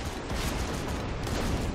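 Rapid gunfire in the Borderlands 2 video game, a dense continuous burst of shots rattling steadily through the whole stretch at moderate loudness, with no voices over it.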